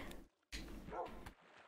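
A dog in the Minecraft game barks a couple of times in short, close bursts, with a brief quiet gap between them and no talking.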